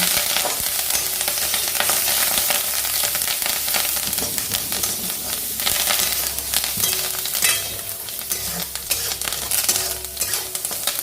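Peanuts and curry leaves fry in hot oil over low-to-medium gas while being stirred, giving a loud, continuous sizzle with crackling pops and scraping throughout.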